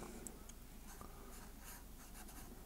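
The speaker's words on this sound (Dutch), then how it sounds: "Ik teken hem even hier zo half achter." A pen draws on paper in quick, soft scratching strokes, close and faint, with short pauses between strokes and no talking.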